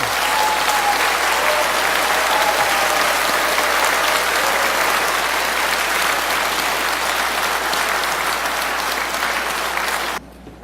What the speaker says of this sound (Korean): 우선 우리 성 신부님이어서 박수 부탁드립니다